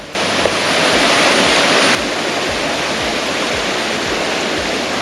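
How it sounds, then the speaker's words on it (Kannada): A loud, steady roar of rushing water from a nearby waterfall near Dharmasthala, continuous and broadband with no voices. "ಇಲ್ಲಿ ನೋಡ್ರೆ ವಾಟರ್ ಫಾಲ್ಸ್ ನೀರು ಹರಿದ್ಬಿಟ್ಟು ಬರ್ತಾ ಇರೋದು"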